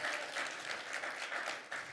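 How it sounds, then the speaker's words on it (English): Audience applause for a cameraman at a talk, a continuous moderate clapping from a crowd with slight swells, heard fairly faintly without speech. "A big round of applause to Ross over here."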